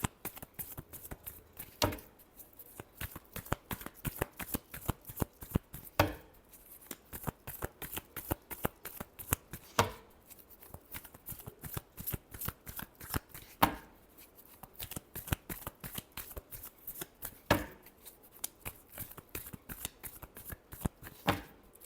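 Tarot cards shuffled by hand in a long, steady run of crisp riffling flutters and soft taps, close and clear with no talking, pausing briefly every few seconds before the next burst.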